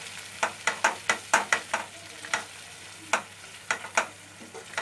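Sapla chingri, a shrimp dish, cooks down in a pan, with a steady low sizzle under repeated sharp scrapes and clacks of a spatula stirring, close and fairly loud.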